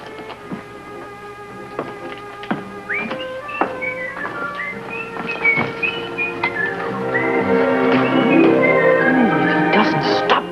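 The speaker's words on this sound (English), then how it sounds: "If he doesn't stop that whistling" A man whistles a wandering, jaunty tune, the clear notes rising and falling against scattered knocks and room noise, growing fuller and busier toward the end.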